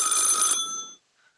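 A telephone bell rings loudly and continuously in a radio play, a dense bright ring lasting about half a second before fading out, followed by a faint brief tone.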